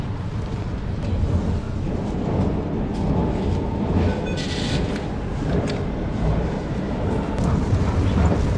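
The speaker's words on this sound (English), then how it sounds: "Oh, this is the metro stop." A Warsaw metro train at a metro stop in Poland, a loud continuous low rumble and roar with rail rattle and wind buffeting the microphone, steady throughout.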